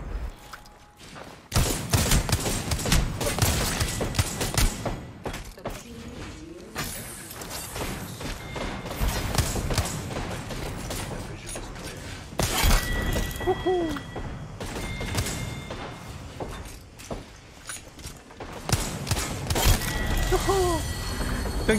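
Dense gunfire from the Apex Legends battle royale game, rapid bursts and repeated shots layered with in-game effects and thuds, loud and nearly continuous across the whole stretch.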